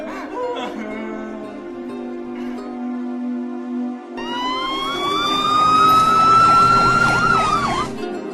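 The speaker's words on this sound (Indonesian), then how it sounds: "dari kejauhan terdengar suara sirine mobil polisi" Police car siren wailing in a dramatic film scene, a rising electronic tone that swells loud over a low sustained hum.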